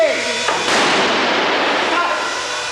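A pyrotechnic charge blows up a scorpion creature puppet on a film set: a sustained loud broadband roar of explosion and debris that swells after half a second and holds steady, with no voices.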